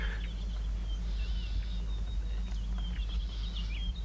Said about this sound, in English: listening to all these birds chirping and moving around